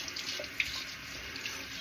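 Water runs steadily from a bathroom tap during a shave, a soft continuous splashing hiss, faint and close, with no talking.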